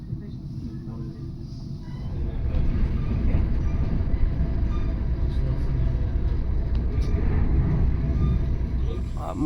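Train rolling along its rails in The Hague, a steady low rumble that swells after the first couple of seconds and holds close and loud to the end, with voices audible underneath.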